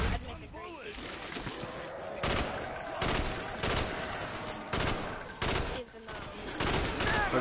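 Rapid bursts of gunfire from a Call of Duty Black Ops Zombies co-op match on Xbox 360, loud repeated volleys in quick clusters with brief gaps, with players' voices mixed in.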